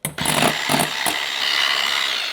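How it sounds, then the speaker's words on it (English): An electric hand whisk beats egg whites toward soft peaks, giving a close, loud, steady motor whir with a brief dip and surge in the first second. "apparently you might need to whisk it for up to 15 minutes"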